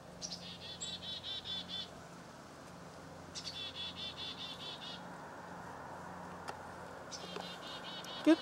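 Bursts of high, rapid chickadee chirping come and go in three short runs over a steady outdoor hum with faint insect buzzing.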